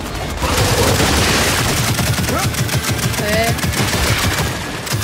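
Rapid machine-gun bursts in the Gears 5 co-op campaign, a dense, loud stream of shots rattling through the whole stretch with a brief spoken word over the top.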